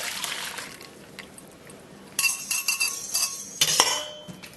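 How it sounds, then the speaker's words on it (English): A batter of beer and butter is scraped out with a plastic scraper into a large measuring bowl, making quiet wet smearing at first and then a louder run of clinks and scrapes against the bowl. "just using one of our new tango coloured scrapers to get that out"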